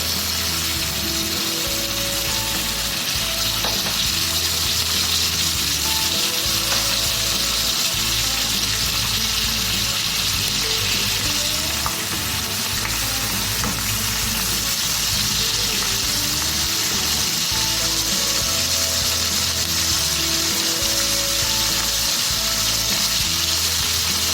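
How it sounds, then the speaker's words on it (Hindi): Turkish Adana kebabs frying in oil in a pan, a loud continuous sizzle and hiss with bubbling spatter, up close and unbroken throughout. "देखिए हमारे दोनों साइड से कबाब सिक चुके हैं।"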